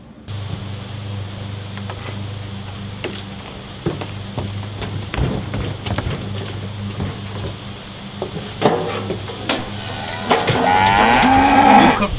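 A cow moos loudly and repeatedly, the calls stretching out and growing stronger toward the end over a steady background of rustling and patter, with no talking.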